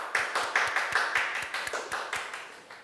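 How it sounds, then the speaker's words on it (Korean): A welcoming audience claps in a regular, rhythmic beat at a ceremony, sharp unison claps repeating about three times a second at moderate distance before fading out. "함께 큰 박수로 환영해 주시면 대단히"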